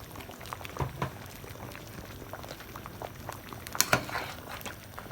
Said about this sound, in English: I'm just gonna let it simmer down for another 10 minutes